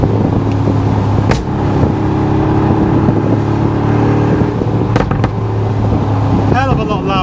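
A deep, throaty Mercedes-AMG G63 engine with aftermarket Capristo exhaust rumbles loudly and steadily from inside the SUV, with brief bursts of revving and a short moment of voices near the end.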